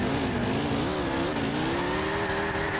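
A car drifts in Gran Turismo 6, its engine droning at a steady, slowly wavering pitch while tires squeal underneath, loud and continuous throughout with no talking.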